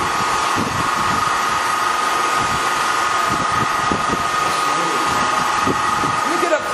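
A Servo 16.5 x 40 hardway metal lathe with 13-inch bedways spins at 1,250 RPM, giving a steady loud mechanical whir and hum with scattered low knocks throughout, while a person talks over it.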